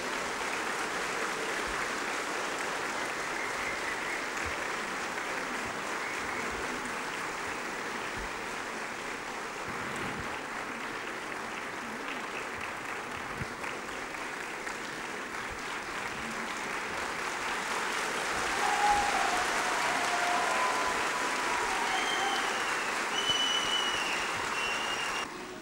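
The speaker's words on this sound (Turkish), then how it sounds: "alkışlarınız için yürekten teşekkürler" Long, steady applause fills a parliamentary party group meeting hall, many hands clapping in a continuous wash for over twenty seconds, swelling a little louder near the end with faint rhythmic accents.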